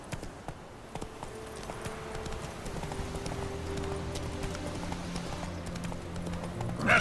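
Roach, a horse in The Witcher 3, gallops with a steady clip-clop of hooves under music, continuous throughout and growing slightly louder toward the end.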